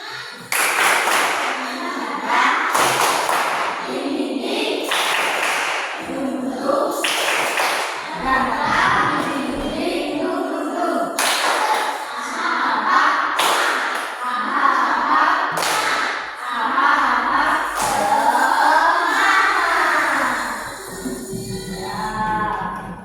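Children in a classroom clap along in rhythmic bursts to the 'tepuk semangat' clapping song, with a teacher's voice and singing mixed in throughout.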